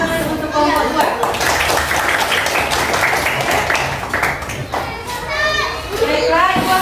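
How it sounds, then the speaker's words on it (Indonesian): A fifth-grade elementary class claps for a student group after their presentation, a dense, steady patter of many small hands lasting several seconds, with children's voices chattering over it. "Beri tepuk tangan untuk kelompok 2."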